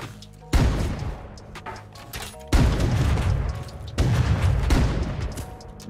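Gunfire in the multiplayer shooter game Rust Console Edition: three heavy, booming shots or bursts, each a sharp onset followed by a rumbling tail, spaced a couple of seconds apart and loud with no speech.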